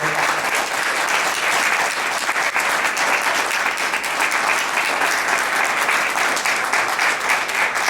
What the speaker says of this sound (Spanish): Pido por favor un aplauso de recepción.